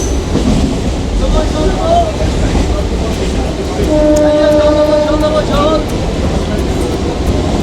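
A train bound for Sealdah rumbles steadily along the rails, with a loud clattering roar, faint squealing tones and voices murmuring beneath the noise.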